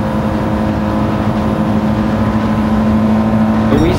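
A racing car in Gran Turismo 7 holds full throttle, its engine a loud, steady, high-revving drone that sustains without a break throughout.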